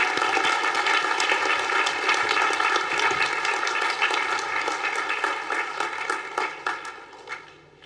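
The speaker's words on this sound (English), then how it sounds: "Let us give a round of applause to the graduates who have just been presented." An audience at a university commencement applauds graduates, dense clapping that starts full and gradually thins out and fades toward the end.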